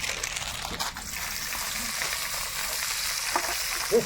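Dried red chili, bay leaf, cumin and onion frying in hot oil in a Bengali home kitchen, giving a steady, dense sizzle that holds throughout with a few faint clinks near the end.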